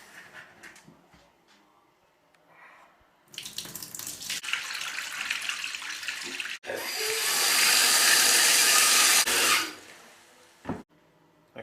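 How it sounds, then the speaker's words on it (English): Water runs from a tap into a container of lye-cured olives, first a moderate splashing stream, then a louder, fuller gush for a few seconds before it stops, with handling knocks at the start and end. "Now I'm just going to empty it out and put new water in them again."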